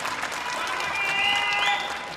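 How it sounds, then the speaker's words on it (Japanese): Audience clapping at a Japanese kayō song festival in Kawasaki, a steady wave of applause that swells slightly, with a voice and faint tones heard underneath. "もう一度拍手をください。"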